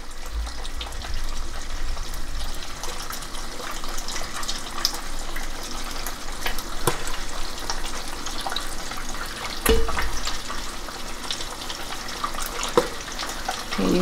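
Liquid rendered tallow fat streams through a fine strainer into a container, a continuous watery pouring and trickling with a few small clinks and knocks along the way.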